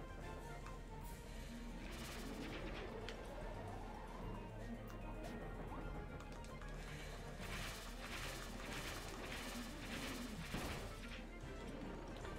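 Little exploding coconuts dropped by a boss in Kirby and the Forgotten Land burst with sharp crashing pops, mixed into a dense, steady wash of game music and effects.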